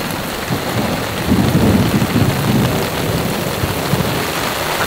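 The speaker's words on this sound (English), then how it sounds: "Just nonstop thunder." Heavy mountain thunderstorm with hard, steady rain and continuous rolling thunder swelling in the middle, a dense, loud wash of rumble and downpour with no voices.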